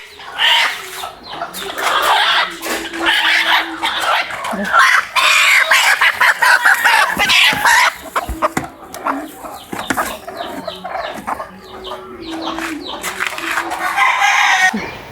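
Australorp and local desi hens clucking and squawking loudly and continuously nearby, with occasional crowing-like calls and no talk over them.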